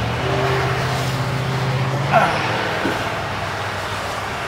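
Road traffic rushes past in a steady roar near Keremeos, British Columbia, with a faint squeal and a brief louder pass midway, heard from nearby.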